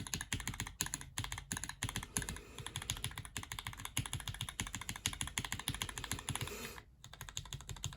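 Rapid clacking keystrokes on a mechanical keyboard fitted with GMK Tera Drive keycaps, a steady run of close, crisp taps with brief pauses, no voices.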